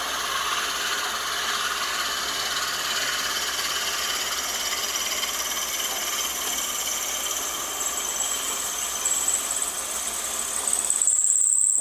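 A drill bores into a wooden pen blank on a wood lathe at about 1,000 RPM, giving a steady whirring mechanical drone with a high whine that runs throughout and grows slightly louder toward the end.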